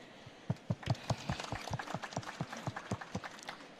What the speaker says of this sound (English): can we give a round of applause to the panelists?